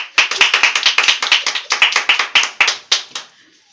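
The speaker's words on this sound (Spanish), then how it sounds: "vamos a darle un fuerte aplauso y una muy grata bienvenida" A television studio audience claps to welcome two social workers, loud and close, a quick burst of distinct hand claps that grows sparse and dies out after about three seconds.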